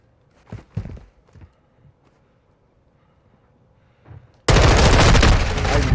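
Gunfire in an online shooter game, a few scattered shots and faint steps early on, then a sudden loud, sustained burst of rapid fire that continues to the end.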